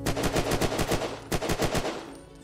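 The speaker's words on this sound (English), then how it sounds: "somebody's shooting a tusk over here" Rapid bursts of automatic gunfire from a tusk rifle in the Unturned survival game, two volleys of loud, evenly spaced shots separated by a brief pause, ending abruptly.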